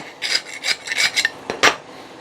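A rasp files a wooden axe handle smooth in about eight quick, rough scraping strokes, close and clear, with short pauses between them and no talk.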